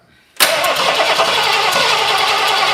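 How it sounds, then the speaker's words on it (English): A vehicle engine cranks and catches after brief quiet, then settles into a loud, steady idle close by with no voices. "2 pumps. Start it."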